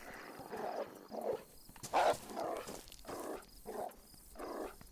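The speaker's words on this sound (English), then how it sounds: "He's growling at this piece of meat right here." A dog in the DayZ video game growls over a piece of meat, rough rhythmic growls in several bursts, fairly close and moderately loud.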